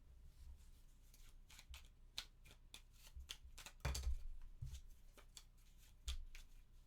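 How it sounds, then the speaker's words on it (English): Playing cards being shuffled at a tabletop during a solo session of the board game The Lost Ruins of Arnak: a run of crisp riffling flutters and light snaps, close and fairly quiet, with no talking. "I can shuffle."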